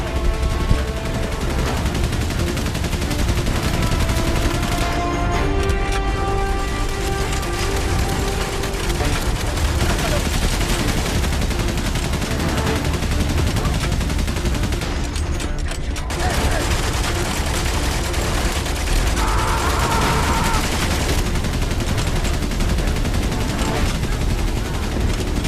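Machine gun fire in the World War I video game Valiant Hearts, loud and sustained bursts that run almost without pause, mixed with explosions and game sounds.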